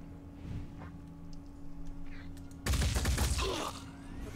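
Gunfire erupts in the tactical video game Phoenix Point: a loud burst of shots bursts in suddenly after a quieter stretch of ambient game sound, then trails off.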